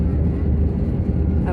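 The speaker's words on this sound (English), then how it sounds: "I never knew that we would be able to see a Korean Air Boeing 787 Dreamliner take off." A Korean Air Boeing 787 Dreamliner takes off, its jet engines a steady, deep roar heard from a distance for the whole clip, with faint voices underneath.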